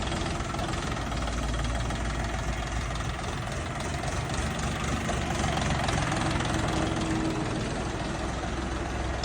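A 24-horsepower four-wheel-drive mini tractor with hydraulic power steering and front and rear counterweights idles up close, a loud steady diesel chug that never breaks and has no talk over it.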